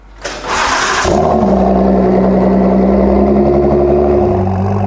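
A Ford GT engine with a new Quicksilver Inconel exhaust cranks briefly, then fires into a loud, deep throaty idle that rumbles steadily, close up, with a growly exhaust tone.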